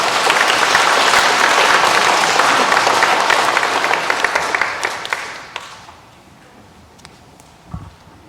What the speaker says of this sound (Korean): 우리 박수로 힘을 주세요